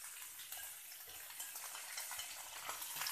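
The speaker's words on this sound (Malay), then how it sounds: "Akhir sekali kita masukkan sayur paku yang sudah kita rebus." Boiled fern greens (sayur paku) tossed into a pan and stirred, giving a steady moist sizzle with soft scraping and stirring noises throughout, close and fairly quiet with no talking.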